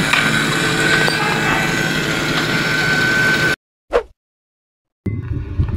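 A vacuum pump on a Daikin split-type air conditioner installation drones steadily close by, cuts off abruptly, a single click sounds in the silence, then the humming motor starts up again.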